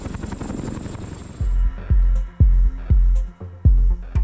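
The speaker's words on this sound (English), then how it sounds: "Heli Protection flew one of their Bell 212 helicopters and dropped water in front of 200 or more spectators." Bell 212 helicopter flying a water drop over a crowd of spectators: a steady broadband engine roar, then repeated loud rhythmic low-frequency thumps of the rotor blades, pulsing about twice a second close by.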